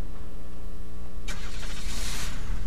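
A police car engine starting in the game Unturned: a steady idling hum jumps into a louder, rougher mid-pitched engine roar as the motor catches and runs, close and continuous.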